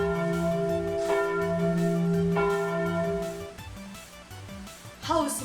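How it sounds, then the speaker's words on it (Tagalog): A church bell tolls in slow, evenly spaced strikes, each leaving a long humming ring, before the ringing fades and a brief voice sounds near the end. "This is the sound of George bell, which is an example of an object"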